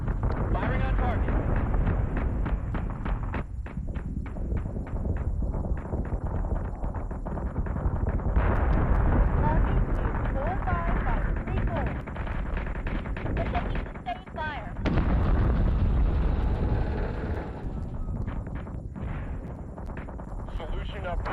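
Warship cannons firing aboard the Galactica in the space combat game Battlestar Galactica Deadlock, a dense, continuous barrage of booming shots and rumbling blasts, loud and sustained, with voices speaking over the battle.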